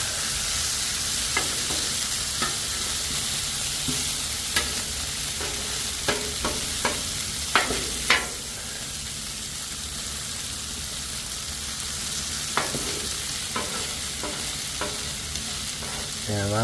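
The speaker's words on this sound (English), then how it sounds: "let them cook until they get nice and crispy" Thin-spread hash browns fry on a Blackstone griddle with a constant loud sizzle. A spatula scrapes and taps occasionally throughout.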